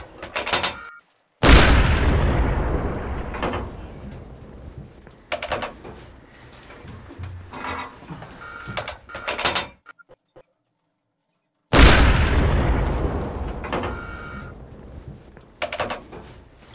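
A smoke shot fires in a multiplayer combat game: a sharp burst with a hissing, rushing tail that fades over several seconds, cut by a brief silence, then a second loud burst with a similar long hiss.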